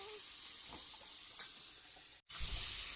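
Chicken and wax gourd curry is stirred in a hot pan over a steady, faint sizzle, with a couple of soft utensil scrapes and a brief cut in the sound before the frying hiss returns slightly louder.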